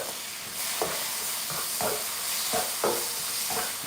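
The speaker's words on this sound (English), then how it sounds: "Get some splashes of hot sauce. Sizzles great." Homemade sauce sizzling in a hot pan in a home kitchen, a steady loud hiss with repeated stirring scrapes and splashes, heard alone.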